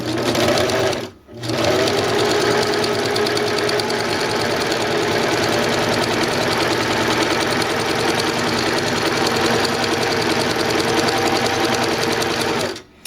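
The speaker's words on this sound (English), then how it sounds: "just run your pedal to run your machine" A sewing machine runs under foot-pedal control with its needle stitching into fabric, a steady, loud mechanical whir that holds continuously for about twelve seconds after a brief pause near the start.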